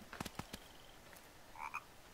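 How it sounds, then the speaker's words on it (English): A frog croaks in the video game The Forest, giving a few sharp, quick croaks at the start and a short twittering call near the end, all fairly faint. "Shut up, frog!"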